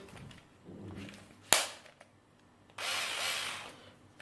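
A Parkside PSSA 4 A1 cordless screwdriver whirs in two short bursts, separated by a sharp click and quiet handling noises, close by.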